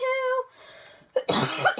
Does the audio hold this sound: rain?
no